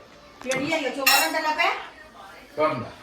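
Dishes and cutlery clink and clatter close by in a few quick bursts, with a brief pause before one more rattle.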